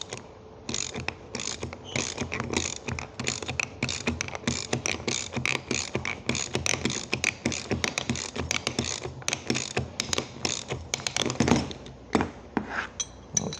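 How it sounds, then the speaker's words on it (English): A 3/4 inch socket and ratchet tightened by hand to press a bearing into place: a steady run of rapid, close clicking from the pawl, loud and continuous with brief pauses between strokes. "here's a 3/4 inch socket and ratchet. And you literally just tighten it up, and it'll push the bearing right in."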